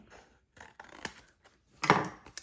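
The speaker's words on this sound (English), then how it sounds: "So I'm going to take my scissors and just cut along that line." Scissors cut paper along a drawn line with several short, crisp snips and rustles, including one louder, longer cut near the end, in a quiet room.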